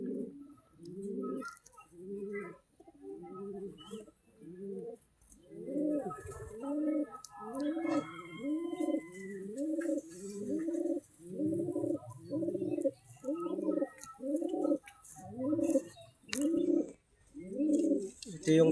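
Pigeons coo in a loft, repeated low rolling calls in a steady rhythm, fairly close, with faint background noise and occasional quiet voices.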